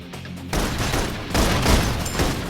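Suppression gunfire in the video game Love and Deepspace: a sudden, dense burst of rapid shots starts after a short quiet lead-in and keeps going as a loud, continuous volley.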